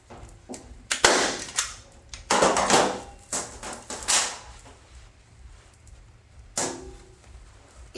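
A staple gun drives staples through folded fabric edges on a homemade pressing table, firing several loud, sharp snaps spaced a second or more apart, with quieter handling clicks and rustles between them.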